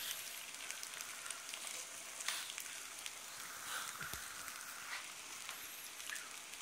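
Takoyaki frying on a griddle, a steady, quiet hiss and crackle of sizzling batter throughout with a few faint pops and scrapes, no talk.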